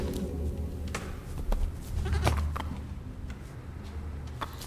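A goat bleats in the puzzle adventure video game Creaks, giving short repeated calls over a low, rumbling game ambience with scattered clicks and ticks, moderately loud and without speech.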